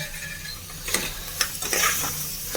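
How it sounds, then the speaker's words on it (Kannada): Mung beans with cut potato and carrot fry in a pan, giving a quiet, close sizzle with a few sharp scrapes and clinks of stirring over a soft, steady background. "ಸೇರಿಸ್ಕೊಂಡು ಇದನ್ನ ಒಂದು 2 ನಿಮಿಷ ಫ್ರೈ ಮಾಡ್ಕೊಳ್ಳೋಣ."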